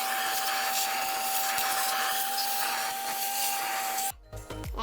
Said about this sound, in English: we're going to vacuum that out